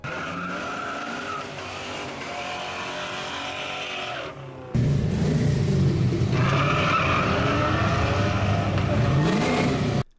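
A loud Ford Mustang GT V8 engine roars and revs continuously, with a sharp jump in volume midway as the car accelerates hard, tires briefly squealing.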